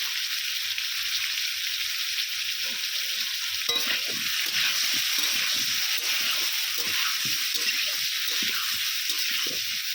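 Potatoes sizzle steadily in hot oil in a pan with turmeric and salt, a loud close hiss broken by repeated scraping stirs through the second half.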